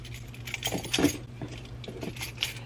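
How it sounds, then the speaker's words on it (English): Keys jangle and clink against each other in a handbag, a close series of bright metallic chinks that peaks in the middle, with no voices. "Got my keys."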